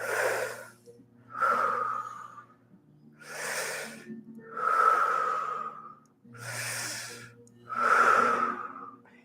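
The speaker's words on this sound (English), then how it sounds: "Breathe into the mouth, creating pressure." A person does a breathing exercise, drawing breath in through the mouth against pressure, producing four long, close, hissing inhales and exhales in a slow, regular rhythm with a faint low hum underneath.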